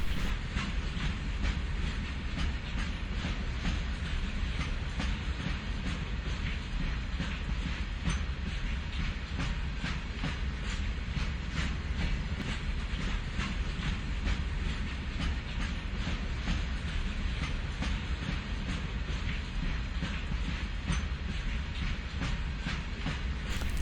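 A train on the Jand to Attock line in Pakistan runs along the rails with a steady, heavy rumble and faint rhythmic wheel clatter, continuous and unbroken, no voices.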